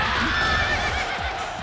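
A horse in the video game Warriors Orochi 3 neighs in a long shrill whinny, with clip-clop hooves and battle noise beneath it.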